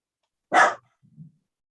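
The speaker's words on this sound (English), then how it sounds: "Well, Polly keeps barking." One short, sharp dog bark, fairly close and alone, followed by a faint low whimper or grumble against an otherwise quiet background.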